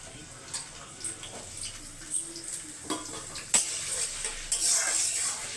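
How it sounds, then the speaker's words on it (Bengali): Thinly sliced potatoes frying in a pan, with a soft steady sizzle under scattered utensil clinks and stirring scrapes that grow busier toward the end. "সেই আলুটা আমি এবারে দিয়ে ভেজে নিচ্ছি।"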